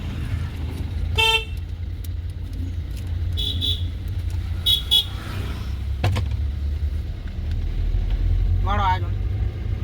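A car engine runs during a driving lesson as the car pulls away in first gear and picks up speed. It makes a steady low rumble throughout, with a few short horn toots from nearby traffic.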